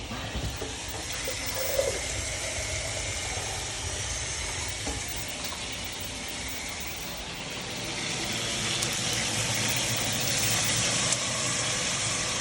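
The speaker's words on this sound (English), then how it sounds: "I'm just going to go ahead and add some water." A cup of water hits a hot pan of browned onions for a gumbo, a continuous rushing hiss and bubbling sizzle that swells louder toward the end, close and without voices.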